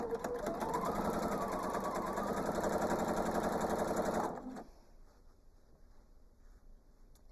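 Sewing machine stitching an improv quilt with a quarter-inch foot runs steadily and close for about four seconds, then stops, leaving a quiet room.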